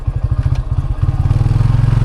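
A motorcycle engine on the ride up toward Gufa Danda gives a steady, rapid low throbbing, close and loud, with a slight rise in pace partway through and no voices.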